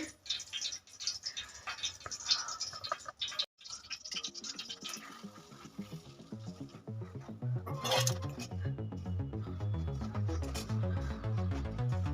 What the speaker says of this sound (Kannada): ಇದು ಇವಾಗ ತುಪ್ಪದಲ್ಲಿ ಫ್ರೈ ಮಾಡ್ತಾಯಿದ್ದೀನಿ